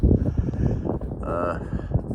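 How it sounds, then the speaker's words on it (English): Gusty wind buffets the microphone outdoors at a garage on a windy late morning, a steady low rumble with rising and falling swells throughout. "I made sure it's windy out, so you don't have to worry about the audio improving any"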